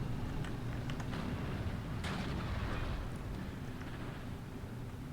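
A ZiS-3 field gun fires in a competitive WW2 real-time strategy game, a dense battle rumble with a heavy boom around the midpoint and scattered distant shots and pops underneath.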